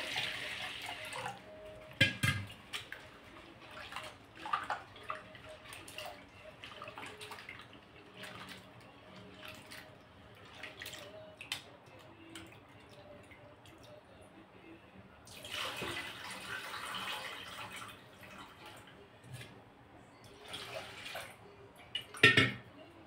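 Water poured and swished over white urad dal during a second rinse, with irregular splashes and a longer rushing pour partway through, close and moderately loud.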